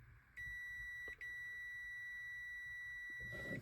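A multimeter gives a steady, clear continuity beep while testing a 36V/48V golf cart solenoid. The single sustained tone lasts about three seconds, with a very brief dropout partway through, and no voices are heard.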